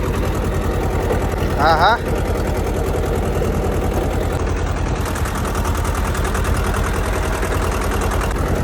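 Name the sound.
tractor engine running under load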